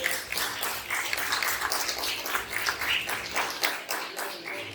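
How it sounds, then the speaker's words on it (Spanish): A church congregation claps their hands in praise, producing sustained, rhythmic communal clapping with sharp regular beats that fill the room for several seconds. "Dele palmas al Rey de Reyes."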